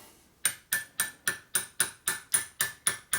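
A hammer strikes a large socket to press a clutch part onto a 1972 Harley-Davidson Sportster Ironhead primary drive. There are about eleven evenly spaced metallic taps, close and ringing, with no talking.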